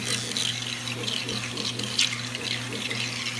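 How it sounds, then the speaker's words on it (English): Flushing fluid splashes steadily on a Charmilles Roboform 100 EDM machine, a continuous close, loud rush of running liquid like a tap pouring into a basin, with no talking. "We're just splash flushing this one right now."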